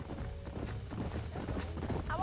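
Steady clip-clop of horse hooves at a walking pace in Red Dead Redemption, moderately loud with mechanical creaks and low rumble underneath.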